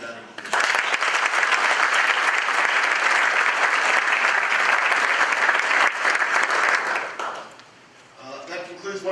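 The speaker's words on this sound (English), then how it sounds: "a round of applause for Patty" A banquet crowd claps in a sustained round of applause for Patty, a full, steady wash that fades out near the end as a voice starts speaking.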